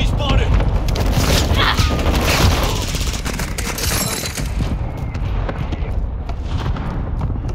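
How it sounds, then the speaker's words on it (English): Mortar strike explosions and gunfire during a Team Deathmatch match of Call of Duty Modern Warfare 2 on the Valderas Museum map, a dense continuous din of booms and shots with scattered voices over it. "Hostile mortar strike in the area!"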